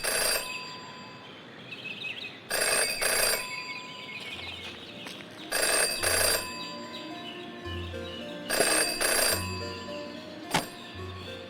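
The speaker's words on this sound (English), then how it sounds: "In her short time as a detective, Jenny had learned never to ignore a ringing phone." A telephone rings repeatedly in the detective game Jenny LeClue, with regular electronic double bursts over a soft ambient game soundtrack with low musical notes, and no talking.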